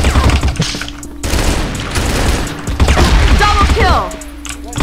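Bursts of rapid gunfire crackle amid game sounds and thuds, loud and close, with some mechanical clatter between volleys.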